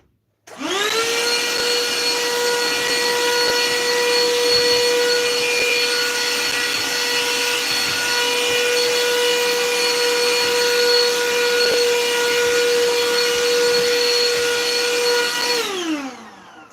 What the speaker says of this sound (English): apologize for the loudness of a vacuum